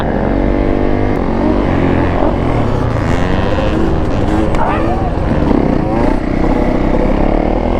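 A small two-stroke supermoto engine revs hard and buzzes continuously at close range, with a steady, loud, raspy drone under people talking.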